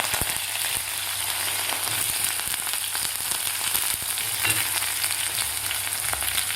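Curry leaves and crushed garlic fry in hot oil, giving a steady, bright sizzle with small crackles and pops throughout, close and continuous with no talking.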